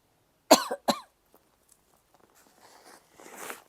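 Two sharp coughs in quick succession, close and fairly loud, followed by quiet faint rustling and shuffling.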